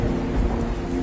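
Thunder rolls over steady heavy rain, a loud, continuous low rumble and hiss that fills the whole brief moment with no voices.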